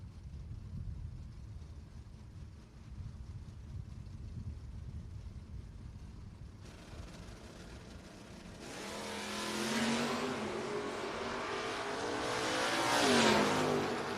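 Drag racing cars at a No-Box 660 shootout, including a 1967 Camaro and a '71 Demon, start with a low engine rumble, then a loud high-revving launch that surges and builds toward the end.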